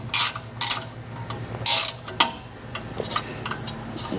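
Ratchet wrench spinning a bolt on a 2007-13 Toyota Tundra rear shock, several short bursts of close, rapid clicking separated by brief pauses, loud and heard alone.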